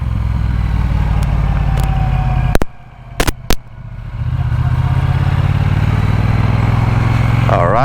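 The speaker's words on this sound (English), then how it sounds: "Oh, pops and bangs on the exhaust." A 2024 Triumph Bonneville T120 engine rumbles steadily, cuts out briefly with a few sharp exhaust pops and bangs, then picks back up into a loud, close running drone.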